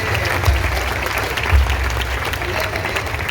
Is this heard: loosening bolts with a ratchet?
no